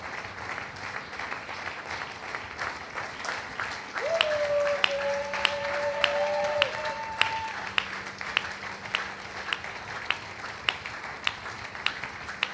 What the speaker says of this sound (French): Est-ce que nous pouvons acclamer Jésus une fois de plus?